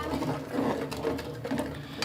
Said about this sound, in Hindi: इसको अच्छी तरह से मिक्स करेंगे